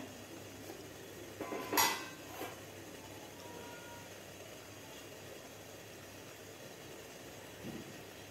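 A metal lid is lifted off a pot of steamed stuffed brinjal, giving a brief clatter and clink close by, followed by a quiet kitchen hum.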